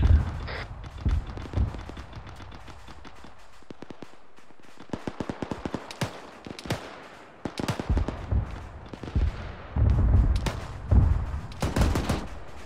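In a military video game, a Mark 19 grenade launcher and other weapons fire in rapid, irregular bursts, with sharp repeated reports, some close and loud and others more distant.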